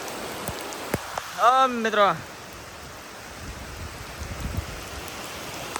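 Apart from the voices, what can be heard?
heavy rain with big drops falling on the camera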